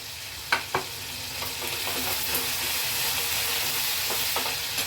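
Tomatoes and curry leaves sizzle steadily in hot oil, a continuous frying hiss with a few sharp stirring clicks near the start.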